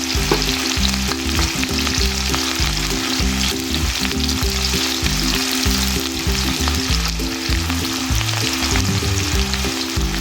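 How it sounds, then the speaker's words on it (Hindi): Chopped onion fries in hot ghee in a kadai for a potato and yogurt dish, giving a loud, continuous hissing sizzle with music playing underneath. "अब इसमें एक दरमियाने साइज का कटा हुआ प्याज शामिल कर देंगे और प्याज को अच्छी तरह ब्राउन करेंगे।"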